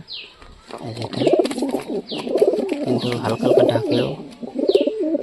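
Low pigeon cooing rolls on continuously nearby while a person speaks over it.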